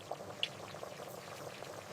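Blended pepper and tomato frying in a pot give a quiet, bubbling sizzle with scattered small pops and a louder spatter right at the end.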